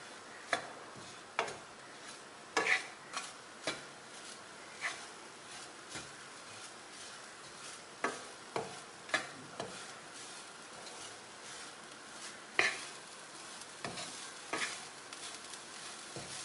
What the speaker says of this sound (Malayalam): നമുക്ക് ആദ്യം തേങ്ങ ഒന്ന് ചൂടാക്കിയെടുക്കാം.